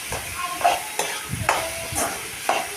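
Spices and turmeric sautéing in a pan for kurma, a soft continuous sizzle punctuated by about five quick scraping stirs of a spoon against the pan, heard up close with no talk.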